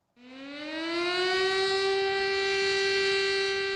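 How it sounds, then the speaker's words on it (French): Civil defense sirens sound across a city during a national commemoration for the Nanjing Massacre victims, rising quickly to a long, steady wail that holds at full strength, loud and sustained. "Des sirènes ont retenti dans toute la ville"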